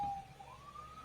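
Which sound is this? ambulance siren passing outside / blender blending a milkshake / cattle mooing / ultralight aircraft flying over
ambulance siren passing outside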